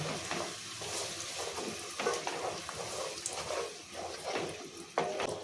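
Ground masala paste frying in a pan for a ghee rice and kabul chana kurma, with a steady broadband sizzle broken by occasional stirring scrapes, close and fairly loud throughout.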